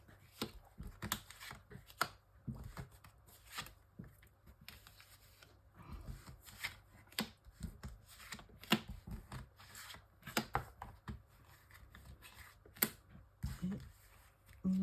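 Tarot cards drawn and laid out for a nine-card reading, making soft irregular snaps and rustles of card stock close by at low volume, with occasional speech.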